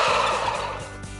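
Turkeys gobble in a loud, close, rapid burst of rolling calls that overlap one another, with no voices.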